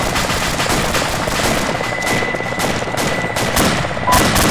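Sustained automatic and rifle gunfire in the military shooter Arma 2, rapid loud bursts of shots rattling steadily with a faint rotor-like drone underneath, fairly close and continuous, with no talk.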